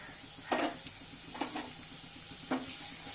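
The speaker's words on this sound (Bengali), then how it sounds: "এবার দিয়ে দেব এখানে টুকরো করে রাখা আলু।" Pieces of potato frying in a pan of oil with whole spices, a steady quiet sizzle broken by three brief scraping stirs.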